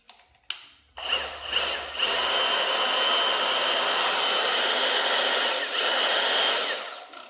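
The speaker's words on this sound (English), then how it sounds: "when I pull the trigger on this, it should self-level itself to where it needs to be" A Milwaukee self-leveling tool powered by a slotted-in battery starts with a click at the trigger pull and then holds a loud, steady motor whir at close range for several seconds before winding down.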